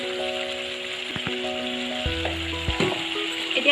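Chicken pieces for a curry frying in a pan, a steady bright sizzle with occasional stirring scrapes and clinks throughout, close and continuous, no talking.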